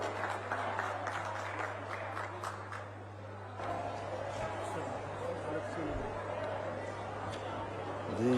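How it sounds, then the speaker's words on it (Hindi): At an outdoor International Yoga Day event in Gairsain, a crowd claps for the arriving chief minister, moderately distant applause mixed with crowd chatter over a steady electrical hum from the sound system. "जोरदार तालियां बजती रहें"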